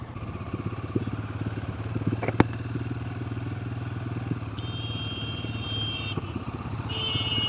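A Royal Enfield Himalayan 450 motorcycle being ridden on a test ride, its steady single-cylinder engine thrum running throughout with small clatters and a sharp thump partway, near and moderately loud.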